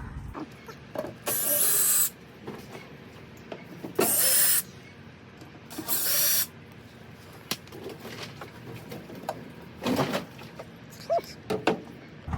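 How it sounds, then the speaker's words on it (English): A power tool removes the bolts from a 1965 Mustang tail light cover in three short, loud bursts, each followed by quiet, low shop background. "once you remove those bolts, you're going to be able to remove the cover"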